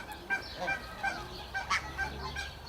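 Geese honk repeatedly at a pond for waterfowl such as ducks, geese, brant and swans, with several loud, close calls coming in an irregular rhythm over steady background noise.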